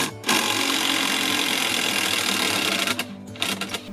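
Power drill driving a 150mm screw into 95mm-thick timber for a retaining wall, a loud steady motor whine held for nearly three seconds, then cutting off into a few short bursts and trigger pulses.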